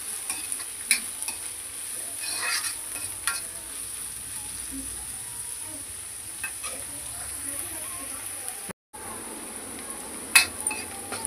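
Cabbage pieces frying for cabbage manchurian give a steady, fairly quiet sizzle with occasional stirring scrapes and clicks and a brief dropout near the end; no voices.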